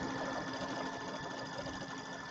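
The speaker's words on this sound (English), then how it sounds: "Let's just let it sew right there." A sewing machine quilts a bench pillow with a steady, continuous motor hum and rapid needle chatter, close and even throughout with no pauses.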